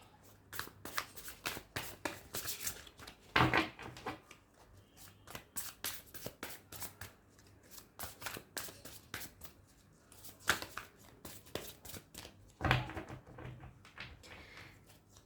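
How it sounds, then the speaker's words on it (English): A deck of tarot cards is shuffled repeatedly, with crisp riffling bursts and soft slaps of cards at close range, and no talking. "Let me just shuffle your cards."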